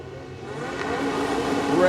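A race car engine revs at the start line of a motor race final, a steady building drone that rises in loudness over two seconds, with a race commentator talking over it.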